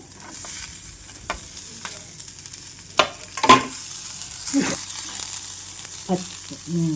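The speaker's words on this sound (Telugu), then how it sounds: "ఇప్పుడు మనం కట్ చేసి పెట్టుకున్న ఉల్లిపాయ ముక్కలు పచ్చిమిరపకాయ ముక్కలు వేసేద్దాము" Chopped onions and green chillies go into a hot pan of fried seasoning seeds for gongura menthi curry, giving a soft, steady sizzle broken by a few louder stirring clatters and scrapes.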